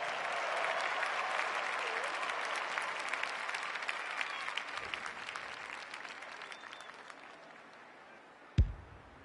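Crowd at a women's football match breaking into sustained applause, a broad steady wash of clapping from a distant stand that slowly fades, ending with a sharp knock.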